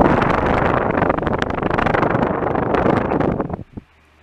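A repainted cheap white plastic house fan runs steadily with a broad, loud whooshing rush of moving air, then is switched off near the end and quickly falls silent.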